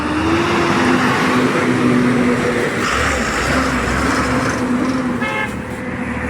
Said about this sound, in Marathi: हे बघा गाडी निघाली आहे.